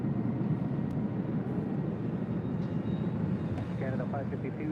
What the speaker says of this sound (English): Next departure is Delta Airlines flight 2272 heading to SFO in the